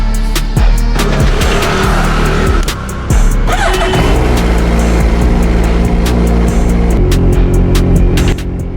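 A motorbike engine running close by on a street, with a loud, steady rumble and repeated sharp rises and dips as the throttle is blipped.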